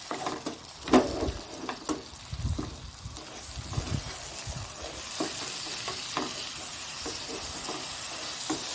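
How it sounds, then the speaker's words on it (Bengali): Egg and potatoes sauté in a home-kitchen pan, giving a steady soft sizzle with scraping stirs and light clinks of the spatula, and no talking. "কষিয়ে নিই এইখানটা ডিমটা আছে আর আলুটা আছে"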